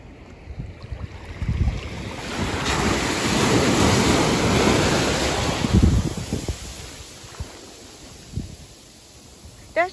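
Ocean waves wash onto a Florida beach in a broad, swelling rush that peaks midway and then recedes. Wind buffets the microphone, and there are a few brief knocks.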